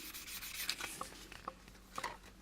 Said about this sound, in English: let's just sandpaper this edge here